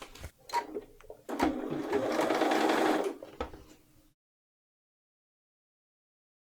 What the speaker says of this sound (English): I'm just going to finish sewing this closed into the neckline